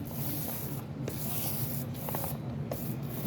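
A paint roller works gritty Daich Spread Stone countertop paint across a countertop, a close, soft continuous rasping scrape with faint sandy crackles as it rolls back and forth.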